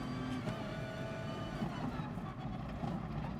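A race car engine in Gran Turismo Sport drones steadily with a continuous low tonal hum and faint harmonics, fairly quiet and even, with no clear revving or gear changes.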